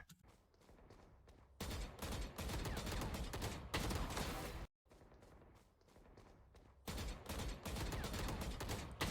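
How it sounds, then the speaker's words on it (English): Repeated gunfire bursts from a competitive first-person shooter match, loud, dense volleys separated by short pauses and one brief silence, with footsteps between bursts. "So I see you're firing like 2-shot bursts"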